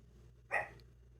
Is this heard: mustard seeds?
no